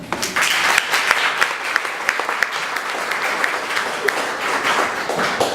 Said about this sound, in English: please give a warm round of applause for Arlene with EnNeed Enterprises of Florida.